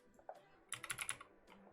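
Computer keyboard typing while entering a player name into a fantasy football team comparison, in a short burst of quick clustered keystrokes after a few isolated taps, close and fairly quiet with no talk.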